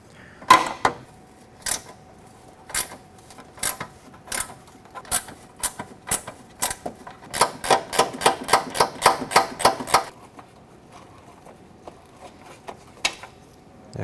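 Sharp, dry clicks from a ratchet and shallow socket working a bumper bolt loose on a 2009-2014 Ford F-150, heard alone in scattered single strokes before a fast, steady burst of repeated clicks, then quiet.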